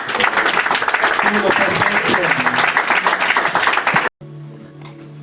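A church congregation claps and cheers in a loud, dense burst of applause for about four seconds, then it cuts off and a voice speaks over it.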